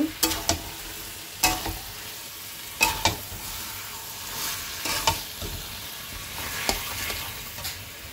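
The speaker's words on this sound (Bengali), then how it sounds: "এখন আমি দিয়ে দেবো আলু আর 2 কোয়া কাঁচা রসুন। এটাকে আমি ভালো করে কষিয়ে নেব।" Chicken pieces sautéed with potatoes and two cloves of raw garlic, a constant frying hiss broken by sharp clacks of a spoon scraping and stirring the pan every second or two, close up and without talk.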